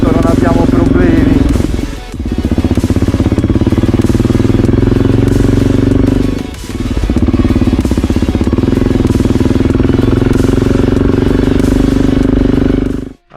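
A motorcycle rides along a road near Olbia in Sardinia, its engine a steady loud drone with wind rush close by, dipping briefly twice, as someone talks over it.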